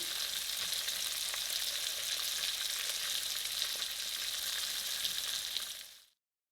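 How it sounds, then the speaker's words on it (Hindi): Meatballs frying in a pan of oil make a bright, even sizzle that holds steady at close range and then fades out quickly at the end. "बॉल्स जो हैं वो अंदर तक कुक हो जाएं फ्राई होते होते"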